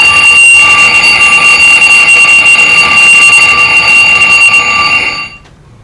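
A loud alarm clock rings nonstop with a bright, shrill electronic trill for about five seconds, then cuts off abruptly. It goes off on a theatre stage during a Hindi play, set as a medicine-time reminder.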